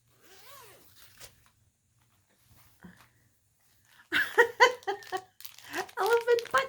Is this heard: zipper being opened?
yes